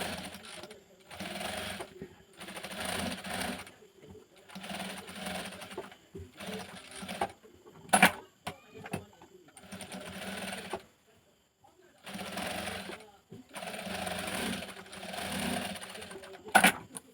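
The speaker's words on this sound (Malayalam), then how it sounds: "സ്റ്റിച്ച് ചെയ്തെടുക്കാം" A sewing machine stitches the neck of a cotton churidar in repeated short runs of rapid mechanical whirring, separated by pauses and a few sharp clicks.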